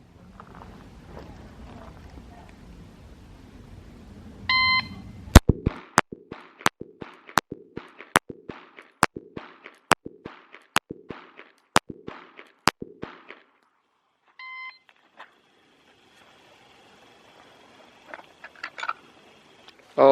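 A string of about a dozen sharp, evenly spaced pistol shots from a Glock 19 Gen 5 rings out during a timed drill at a shooting practice, each crack close and distinct, with brief beeps before and after.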